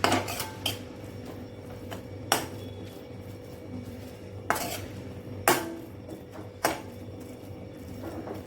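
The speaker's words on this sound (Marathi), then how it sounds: "आता हे आपल्याला चांगलं मिक्स करायचं आहे." A spoon stirs kothimbir vadi batter of coriander with turmeric and coriander powder in a bowl, knocking and scraping against the dish in a few sharp, irregular clinks over a low background hum.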